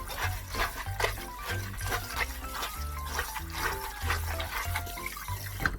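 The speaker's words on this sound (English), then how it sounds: "I'm going to rinse it until it is clear, like I'm doing laundry." Soaked seaweed rinsed by hand under a running kitchen tap, a soft steady splash of water with irregular sloshing and handling noises, close and fairly quiet.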